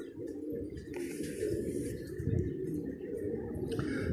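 A pigeon coos softly nearby, low murmuring calls recurring through a continuous background of rustling and faint chirps, with no clear speech.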